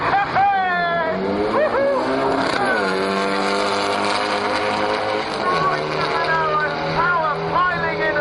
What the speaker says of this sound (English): the car barking hard